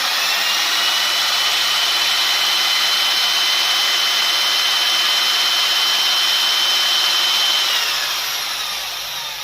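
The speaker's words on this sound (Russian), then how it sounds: "Сейчас запускаю дрель." An electric drill powered through a solar-panel inverter whines at a steady high pitch for several seconds, then winds down near the end. The sound is close and loud, with no talking.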